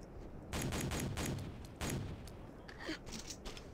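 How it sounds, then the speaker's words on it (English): Rapid bursts of suppressed pistol fire in the video game IronStorm, several loud clustered volleys in the first two seconds, then quieter scattered shots and game effects. "This is like the best silenced pistol ever."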